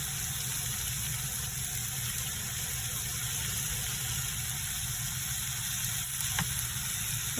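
Egg added to Japanese giant radish frying in a pan, giving a steady, continuous sizzle and crackle at close range that holds even throughout, with no voices.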